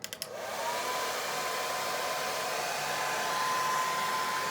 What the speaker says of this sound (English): turn the hair dryer on to insulate my hair for about 10 minutes